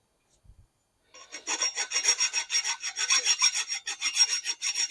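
A flat file deburring the cut end of a bicycle frame tube makes close, steady rasping strokes in a quick even rhythm that starts after a brief silence, with no voices.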